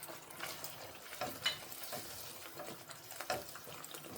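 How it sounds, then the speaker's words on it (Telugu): Egg and anchovy curry fries in a pan, a soft, fairly distant sizzle with occasional scraping stirs and small clinks, low in level throughout and with no talking over it. "ఇదిగోండి, ఇలా ఫ్రై అవుతుంది కదా."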